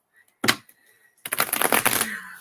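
Tarot cards shuffled by hand, a short snap followed by a longer crisp riffling flutter, close and clear.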